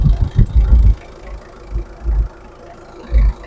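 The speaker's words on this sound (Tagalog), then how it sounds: "Makita nyo naman kung gaano ka-smooth ang andar ng makina." A Mitsubishi Adventure engine idling smoothly close by, a low steady rumble with a few soft swells in level and no voices.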